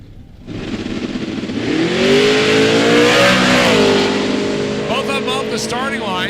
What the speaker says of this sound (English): the pretty nasty sounding 1968 model Camaro